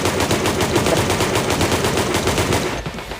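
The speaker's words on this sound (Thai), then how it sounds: "ยิงมาไม่หยุดเลย" Continuous rapid gunfire in the sandbox video game Melon Playground, a dense unbroken burst of automatic shots that stays loud throughout and drops off briefly near the end.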